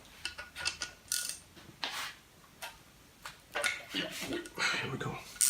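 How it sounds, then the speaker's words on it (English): A small ratchet works a 12 mm hollow oil bolt on a GSX-R SRAD motorcycle engine being dismantled, giving short runs of quiet clicking with pauses and a voice talking in between. "So we can try to do with the smaller ratchet."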